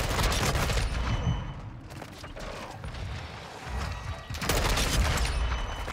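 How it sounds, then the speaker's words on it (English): Rapid gunfire and sharp impact hits from Call of Duty gameplay, including the headshot sound effect, with bursts of shots that recur over a dense, loud mix of game noise. "can we talk about how satisfying the headshot sound is as well?"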